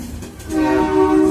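A train at a large railway servicing centre near Delhi sounds a loud, sustained horn that swells after a rumbling start and holds steady to the end, close by with no talk.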